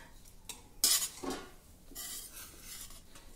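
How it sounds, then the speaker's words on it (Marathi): Hot leftover ghee from frying puris poured through a metal sieve in a home kitchen, heard as a sharp metallic clatter and scrape followed by soft trickling and faint sizzling, with no talk. "हे पुऱ्या तळून उरलेलं गरम तूप आहे चाळणीने थोडं गाळून घेऊ आपण"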